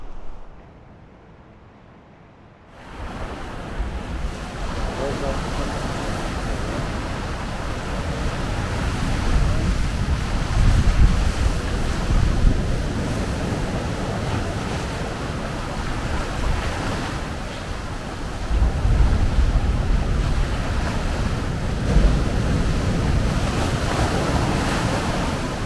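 Ocean waves and surf on a rocky coast near mainland Britain's southernmost point as the tide comes in fast: a brief near-silence, then a steady, loud roar of breaking water with wind buffeting the microphone throughout.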